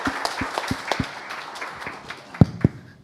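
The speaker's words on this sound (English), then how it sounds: "Huge round of applause for them." Scattered handclaps from a live event audience, a few sharp distinct claps that thin out and end with two louder isolated claps.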